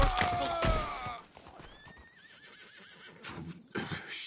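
A horse whinnies loudly and close by, its cry falling in pitch, followed by the clopping of hooves. Brief bursts of other noise follow, with faint voices in the background.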